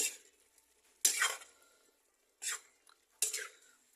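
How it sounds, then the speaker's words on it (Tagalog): Potatoes being stirred in a cooking pot, three separate scraping swishes of a spoon against the pot with quiet pauses in between, heard close. "Haluin, ipaloob ang patatas para sa ganun maluto."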